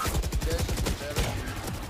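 Rapid bursts of VALORANT gunfire, a fast rattling run of shots over about two seconds, loud and continuous.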